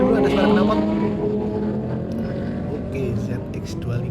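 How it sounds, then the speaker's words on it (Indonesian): A loud, continuous motorcycle exhaust drone from a Yamaha R15 fills the recording, a rough rumble with slight surges, close by and uninterrupted. "Kita dengerin dulu ada suara knalpot."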